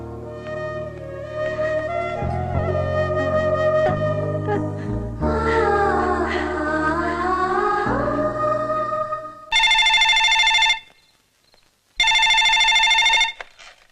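A landline telephone rings unanswered in a house in a Telugu film scene, two loud sustained bursts of ringing cutting in after a stretch of background score music, with a brief pause between them.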